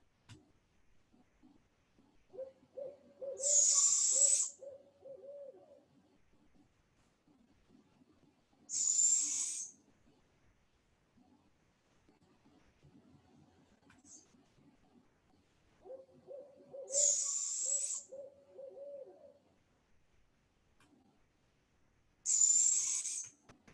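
Barred owls call back and forth at dusk in a wooded area, four separate bouts of calling spaced several seconds apart, moderately distant over a quiet background.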